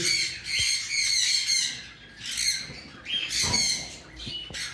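Ringneck parrots in a pet shop let out repeated harsh, shrill squawks in short bursts, several calls spaced a second or so apart, close and fairly loud against a quiet background.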